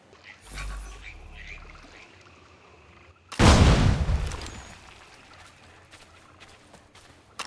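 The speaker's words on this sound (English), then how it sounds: "Perhaps some gunpowder would move it. A nice big explosion, eh?" A big stone is blasted by a gunpowder explosion in the video game Assassin's Creed III, one loud boom with a rumbling tail that fades over a few seconds, after quieter scuffling.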